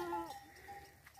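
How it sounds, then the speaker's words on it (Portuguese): A goat bleats once, briefly and fairly near, from a herd raised in the dry Caatinga backcountry of the Brazilian sertão, followed by quieter outdoor background. "Aqui o rebanho da criação de bode aqui no nosso querido sertão, sertão Caatinga"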